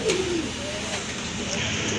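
Pigeons coo softly nearby among pairs kept for sale, a low, steady burble under people talking and faint traffic.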